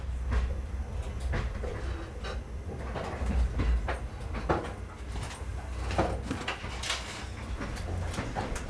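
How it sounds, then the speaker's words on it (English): Train running on rails on a 15-hour ride from Zhangjiakou toward Li County, China: a steady low rumble with repeated clicking and clattering of wheels over track joints, continuous and fairly close, no voices. "A 15-hour train ride from Zhangjiakou brings you into Li County."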